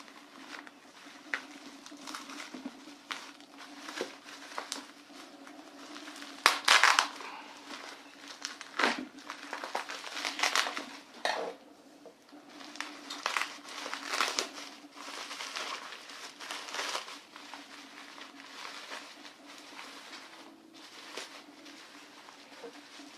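Shanling M1 packaging is cut and unwrapped up close, with soft crinkling, rustling and tearing of wrapping in irregular bursts over a faint steady hum.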